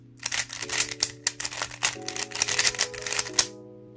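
A YJ Yulong v2 M speed cube lubed with compound 10 being turned quickly, giving a dense run of sharp plastic clicks and clacks close up for several seconds, with no speech.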